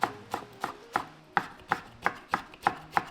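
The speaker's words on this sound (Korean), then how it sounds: "상추는 반으로 잘라 가늘게 채 썰어 주세요" A knife finely slices halved lettuce into thin strips on a cutting board for kimbap, giving about ten crisp, evenly spaced chopping taps, close and clear with no voices.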